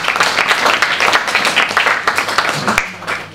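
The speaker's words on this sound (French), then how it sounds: "il faut l'applaudir très fort et le remercier" An audience applauds after a talk on Marseille during the Second World War, dense steady clapping from a large crowd filling the room, loud and close, tapering near the end.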